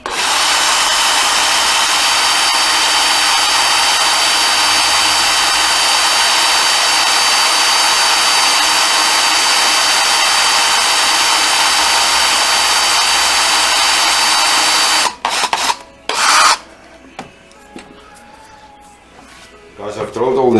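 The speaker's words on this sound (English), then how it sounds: "So I put my drill on a slow speed" A power drill turns slowly under heavy pressure, boring holes in brass with a steady, continuous grinding whir that runs without a break for about fifteen seconds. It then stops, leaving a few short clattering handling sounds.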